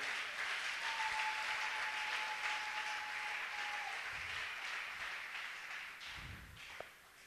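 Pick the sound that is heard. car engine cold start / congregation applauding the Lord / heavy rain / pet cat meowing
congregation applauding the Lord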